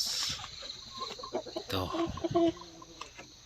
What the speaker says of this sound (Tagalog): Yan ang mga kulungan ng manok ko.